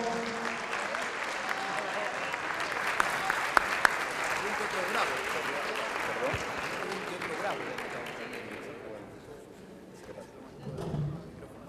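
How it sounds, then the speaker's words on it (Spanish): A conference audience claps steadily to welcome a professor as speaker, a dense sustained round of applause that fades out toward the end, followed by a few faint sounds and a brief voice. "Lo recibimos con este aplauso y este agradecimiento."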